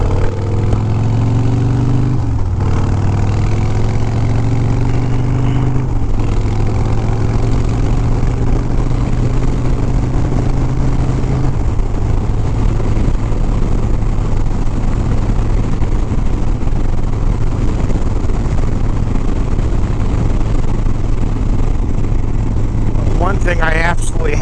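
A motorcycle running on fresh fluids drones steadily while being ridden, its mid-pitched engine tone holding up close and shifting in pitch early on before settling into an even hum.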